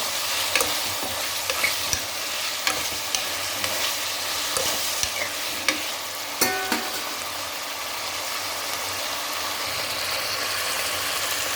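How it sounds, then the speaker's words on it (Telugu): Curry leaves sizzling and frying in hot oil for masala rice, a steady close crackle with scattered sharp pops and the occasional stir scrape, no talking. "ఇప్పుడు కొంచెం కరివేపాకు కూడా వేసాను మంచిగా వేగనిచ్చి"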